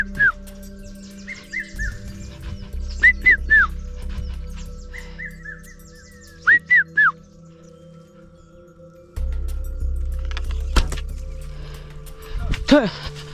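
A Hadza hunter out hunting imitates a bird call with his voice, giving short groups of high chirping whistles. They sound in bursts over a low outdoor rumble, with a few faint real bird calls near the end.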